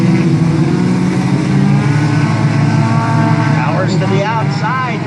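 A race car's engine roars steadily on an oval dirt track during an outlaw tuner main event, loud and continuous, with the pitch shifting as other cars run close by.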